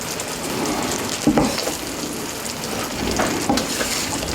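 Eggs and a tomato mixture being scrambled in a frying pan for Greek strapatsada, a steady close sizzle with soft scraping as the curds are broken up, no voices.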